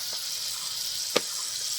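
Jalebi batter frying in very hot oil gives a steady, dense sizzle throughout, with one brief louder pop or splash near the end.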